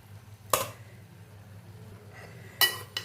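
A few sharp clinks of a utensil against a pan stand out over near-silence while tomato egg rice is stirred and mixed, two louder knocks separated by a quiet stretch.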